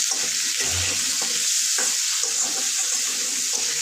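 Potatoes seasoned with turmeric and salt fry in hot oil, giving a steady, loud sizzle with a few soft stirring knocks and no talking.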